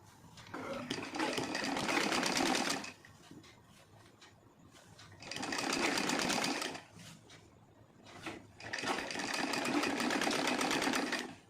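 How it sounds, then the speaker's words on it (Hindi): A sewing machine stitches sleeves onto a kurti made from an old silk saree, running in three steady whirring, rattling bursts of a few seconds each with short quiet pauses between. "इसके ऊपर मैं इस तरीके से स्लीव्स रखकर सिलाई करते जाऊंगी"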